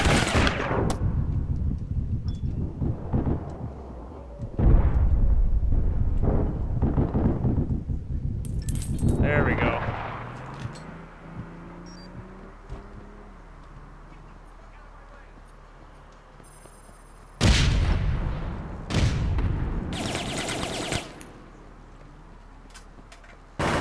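Bursts of gunfire crack out in APB Reloaded, loud clusters of shots early on and again near the end, separated by quieter stretches with a voice talking in between.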